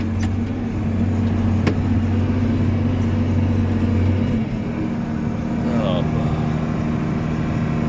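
An old John Deere farm tractor, hitched to a disc for spring tillage, runs with a steady, loud, low engine drone and hum. A sharp click or knock cuts in briefly near the start.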